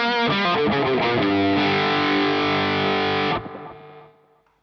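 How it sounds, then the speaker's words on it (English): Heavily distorted electric guitar through a Nux Cerberus pedal with overdrive stacked into distortion, high-gain chords ringing out with long sustain, then cut off and decaying near the end. "I can even stack the overdrive into the distortion to get loads of gain and loads of"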